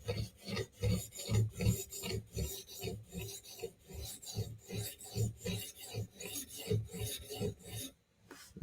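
Steady rhythmic rasping strokes of a Spyderco knife blade drawn across the stones of a Hapstone RS guided sharpener, close and fairly loud, repeating back and forth without pause until a brief quiet gap near the end.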